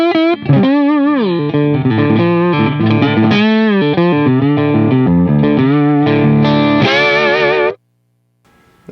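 Electric guitar through a Suhr amp, played dry with no reverb and no second IR: a continuous distorted riff of chords and single notes with a chorus-like shimmer, loud and close, cutting off abruptly near the end.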